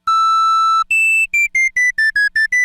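A bright square wave monosynth tone holds one long note, then steps up and plays a quick run of short, evenly spaced notes, clean and alone.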